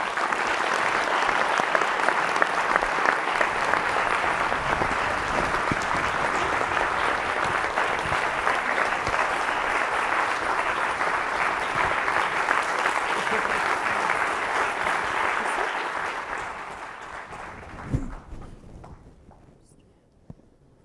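Sustained audience applause at a lecture welcoming artist Konrad Klapheck, loud and dense for about sixteen seconds before tapering off, with a few final claps and a faint thud as it dies away.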